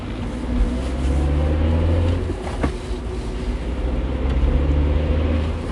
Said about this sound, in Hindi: गाड़ी स्टार्ट की और गाड़ी फुल स्पीड में भगाने लगा।